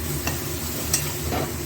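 A spoon stirs spinach and coriander paste into fried onion and garlic, giving a few soft scrapes and thick squelches over a low, steady sizzle close by.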